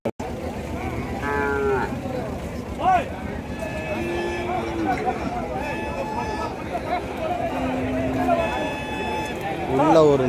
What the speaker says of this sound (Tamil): உள்ள ஒரு நாட்டு மாடு குபீர் நிற்கிதா பெரிய கொம்போட.